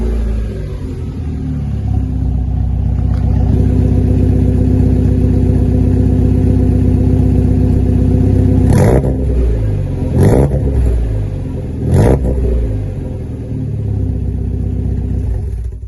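A 2000 Mazda MX5 with a 1.8-litre engine and a homemade exhaust idles with a loud, rough, throbbing drone. Three sharp throttle blips then rise and fall quickly before it settles back to idle.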